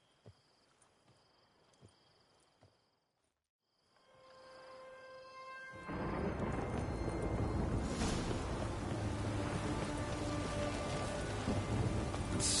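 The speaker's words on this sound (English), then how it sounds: "Storm, damn it." A thunderstorm with rain in The Witcher 3: Hearts of Stone rises from a quiet scene into a steady, heavy downpour with a rumbling roll of thunder, loud and continuous after the first few seconds.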